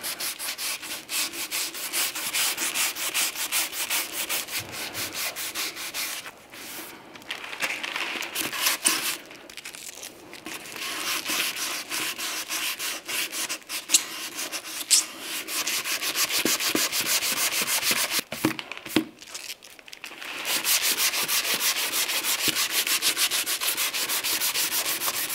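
Primer on a Talbot Sunbeam Lotus body is dry block sanded with a Dura block, giving a loud, continuous rasping scrub in long strokes with a few brief pauses.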